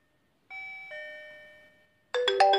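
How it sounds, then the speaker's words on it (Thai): A Digoo DG-XYA smart video doorbell chimes twice in clear sustained tones, then a louder, busier burst of chiming tones follows near the end, with no talking. "ตอนนี้มีคนมาที่บ้านนะครับมากดกริ่งสมมติปุ๊บ"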